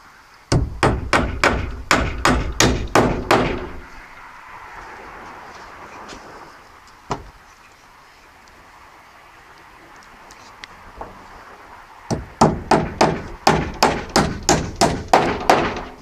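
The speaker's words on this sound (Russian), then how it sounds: "Последние я прибью гвоздями поменьше." Nails driven with a hammer into horizontal overlapping wooden wall boards: two rapid runs of about eight sharp, loud, evenly spaced blows each, separated by a quieter stretch with a single knock and faint handling noise.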